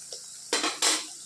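A metal utensil scrapes and clatters against a pan in two sharp bursts as spice paste is stirred and fried in oil, with a soft sizzle underneath, close up.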